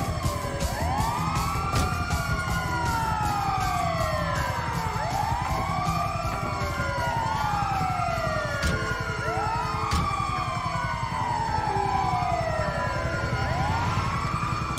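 An ambulance siren in the video game GTA 5 wails continuously in a loud, rising-and-falling cycle, with several siren tones overlapping under a steady rumble of traffic.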